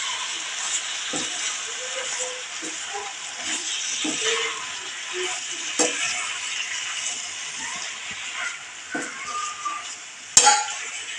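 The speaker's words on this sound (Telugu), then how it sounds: "ఇప్పుడు ముందుగా శుభ్రం చేసి పెట్టుకున్న గోంగూర వేసుకుందామండి" Cleaned gongura leaves going into spiced masala in a cooking pan for village-style gongura paneer curry, with clinks of a metal spoon, scraping and soft rustling over a low sizzle, and a sharp clang near the end.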